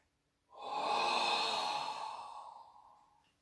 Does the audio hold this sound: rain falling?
no